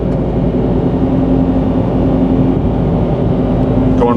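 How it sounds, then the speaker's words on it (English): Engine of a 2023 Nissan Z with an automatic transmission, heard from inside the cabin as a loud, steady drone while driving, with a rising rev blip at the end as it downshifts. "We got some good downshifts for us."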